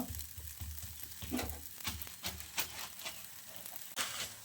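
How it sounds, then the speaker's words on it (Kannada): An aloo paratha fries in oil on a pan, giving a close, crackling sizzle with repeated soft scrapes and taps as it is turned and oil is spread over it. "ಇವಾಗ ಒಂದು ಸೈಡ್ ಆಗಿದೆ ಇನ್ನೊಂದು ಸೈಡು ಈ ಥರ ತಿರುವು ಹಾಕಬೇಕು ಹಾಕಿ ಮೇಲ್ಗಡೆ ಸ್ವಲ್ಪ ಎಣ್ಣೆ ಸ್ಪ್ರೆಡ್ ಮಾಡಬೇಕು"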